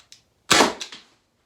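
A single sharp pneumatic shot from a Byrna launcher driven by a CO2 cartridge: a faint click, then one loud burst with a quick rattling tail, heard alone.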